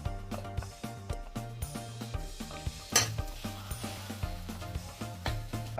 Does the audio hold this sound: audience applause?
no